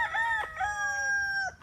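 A rooster crows loudly and close by in a farm chicken pen, one long drawn-out cock-a-doodle-doo with a couple of shorter broken notes at the start, heard clearly with no talking.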